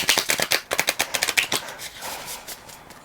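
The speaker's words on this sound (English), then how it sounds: "so we'll shuffle." A dark-themed tarot deck is shuffled by hand, giving quick, crisp riffling bursts in a rapid rhythm that fade toward the end.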